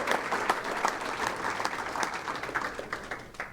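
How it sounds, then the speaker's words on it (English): Steady audience applause at a high school athletes-of-the-year awards ceremony, dense clapping from a large crowd continuing evenly throughout with no speech over it. "Another round of applause for all of our athletes for this year"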